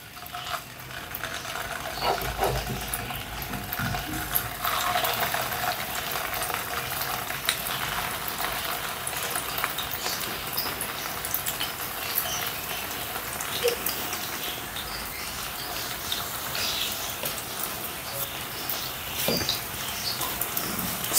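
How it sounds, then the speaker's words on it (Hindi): Chicken kebabs frying in 2 to 3 tablespoons of oil on a slow flame, giving a steady, moderate crackling hiss that runs throughout without pause and with no talk. "स्लो फ्लेम पर आपने फ्राई करना है बिल्कुल।"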